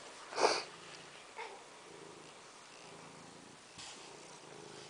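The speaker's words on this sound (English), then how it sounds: "Kitty wants in." A cat at a house door wanting to be let in gives one short, sharp vocal cry, followed by faint sniffing and soft purring sounds in a quiet setting.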